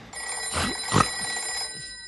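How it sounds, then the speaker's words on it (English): A telephone bell rings in a couple of bursts, bright and fairly close, with a steady tone lingering underneath. "It's only the phone."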